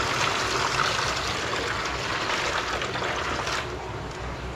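Water pours out of an aquarium in a steady, hissing rush and trickle that continues unbroken, easing slightly toward the end, with no talking.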